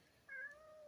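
A cat gives a single faint, short meow that rises and then trails off, heard alone in a quiet room.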